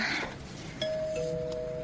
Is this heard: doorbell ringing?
yes